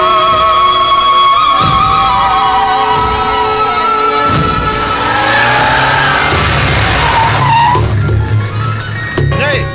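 A vehicle's engine revs hard as it starts and pulls away quickly, with a rising roar and some tire noise under loud background sound and voices.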